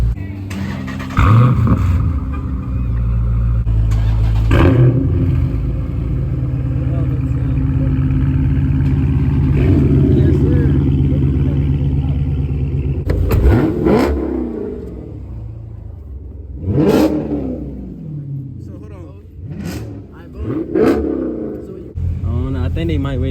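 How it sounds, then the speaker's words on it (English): Dodge SRT 392 and Hellcat muscle cars start and rev at a downtown street takeover, with deep rumbling idles, several sharp throttle blips and roaring revs that swell and fall, close by and loud. "y'all hear the cars start, man"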